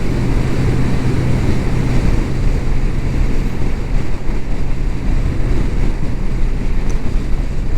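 A 1980 Yamaha XS1100 Special motorcycle cruises along at low revs, its steady engine drone nearly buried under loud, continuous wind rush across the microphone, no voices.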